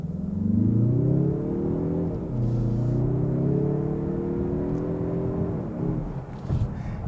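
A 2024 Mazda3 Turbo Hatchback accelerates hard. A steady engine drone climbs in pitch through a gear, dips briefly at the shift, then rises again, loud and close with no talking.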